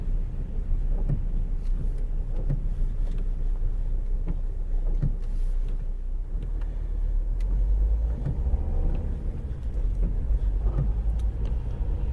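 Cars pass by on a road between West Hougham and Folkestone with low rumbling engines and tire noise, several vehicles swelling and fading amid steady traffic hum, heard from a driving car.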